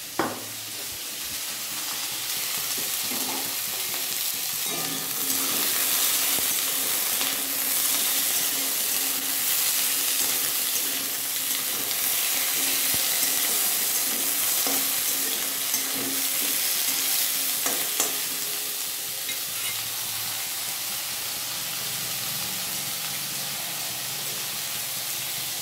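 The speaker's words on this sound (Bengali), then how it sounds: "আমি এই শিম আর বেগুনের ওপরেই হালকা করে মূলোটা ভেজে তুলে নেব।" Radish fried in a pan along with beans and eggplant, a loud continuous close sizzle and hiss of hot oil with occasional stirring scrapes, steady throughout and with no voices.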